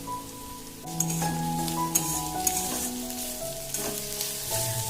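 Chopped medium onions with a spoonful of sugar lightly frying in a pan, a close, steady sizzle with scattered crackles, overlaid by sustained tonal music notes throughout, no talking.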